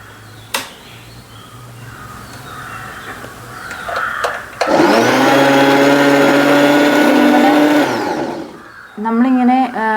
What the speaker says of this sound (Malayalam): വെച്ചിട്ട് നമ്മൾ നമ്മുടെ കാല് ഉപയോഗിച്ച് ഫൂട്ട് പ്രസ് ചെയ്യുമ്പോൾ മെഷീൻ ഓണാണ്.